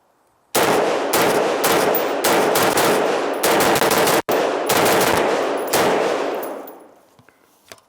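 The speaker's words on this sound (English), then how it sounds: "It's like having a cutaway rifle that's functional." An AR-style rifle with a cutaway receiver fires a long, loud string of rapid shots at close range, with a brief break partway through. The shots then trail off into a ringing decay.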